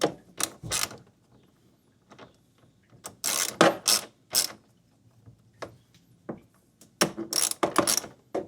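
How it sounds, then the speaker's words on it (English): A hand ratchet loosens the radiator shroud bolts on a 2004 Ford F-150, with bursts of rapid clicking in irregular spurts separated by short pauses, close and fairly loud with no speech. "We're going to go ahead and loosen up this shroud."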